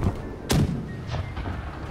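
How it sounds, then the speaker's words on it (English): Ship cannons fire in Blackwake, a single heavy, close boom followed by a couple of fainter distant thuds over a steady low rumble of background noise. "Load the cannons on the starboard side with grape shots"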